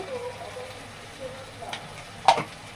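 Prawns and drumstick pieces simmering in a pan give a soft, continuous sizzle with a louder spatter burst near the end, under a voice talking.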